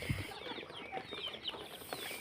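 Chickens on a farm cluck and call at morning feeding time, several birds close by in a busy, continuous chatter with scattered short clucks throughout.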